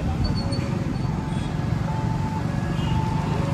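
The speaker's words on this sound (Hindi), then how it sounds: "देखो आज नेरवाड़ा रोड पे ट्रैफिक भी बहुत सारी है" Road traffic on Nerwada Road forms a dense, steady rumble of passing vehicles with scattered tonal horn-like notes, while voices murmur faintly underneath.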